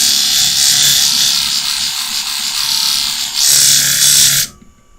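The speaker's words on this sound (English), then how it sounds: "All I'm doing is lapping the burr off." A knife blade is lapped on a sharpening stone to remove the burr, giving a steady, close, dry scraping rasp that runs continuously for a few seconds, dips briefly, then resumes before stopping abruptly.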